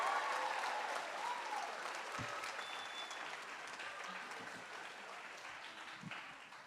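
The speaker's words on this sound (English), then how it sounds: "Can we give a round of applause to our cheer squad there?" Applause for a cheer squad at a community college fall commencement ceremony, a broad wash of clapping from a large crowd that starts strong and gradually fades, with a few scattered louder claps and no talk over it.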